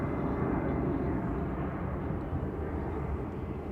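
An easyJet airliner bound for Belfast roars at an airport, a broad steady jet rumble at moderate distance with no talk.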